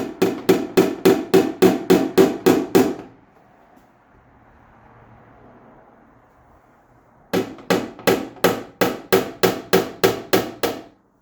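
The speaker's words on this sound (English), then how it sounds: "I just need to tap it down to make sure it sits in nice and even." Two bursts of rapid, evenly spaced small-hammer taps seating a part of an emergency hood release kit on a Triumph TR6, about ten sharp knocks each, separated by a few seconds of quiet room noise.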